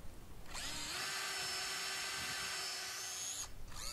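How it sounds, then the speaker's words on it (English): Cordless power drill fitted with a 7/16 inch bit boring into a sugar maple trunk: a steady, loud motor whine of about three seconds that starts and stops abruptly, with no talk. "The blue piece of tape on my drill bit is measured 2 inches up, so I can drill exactly 2 inches deep on every tree."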